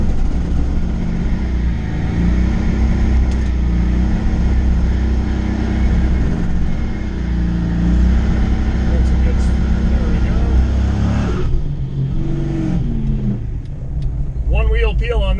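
A Fox-body Mustang with a swapped 408 Cleveland-based V8 rumbles loudly at a track day, its deep engine note holding steady before shifting and fading into a rising whine near the end.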